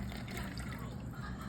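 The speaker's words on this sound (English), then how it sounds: "once that butter is melted, go ahead and add in your 1/2 cup of milk" Half a cup of milk poured into a pan of melted butter while making bread pudding, a steady low liquid pour and faint bubbling that runs evenly at close range for the whole stretch.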